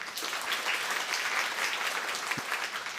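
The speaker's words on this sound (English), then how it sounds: "let's give a big round of applause to welcome Professor舒濤to the stage to deliver his speech" Audience applause welcoming Professor Shu Tao to the stage for his inaugural lecture as a memorial professor of finance: steady, dense clapping from a full hall that carries through the whole stretch without voices.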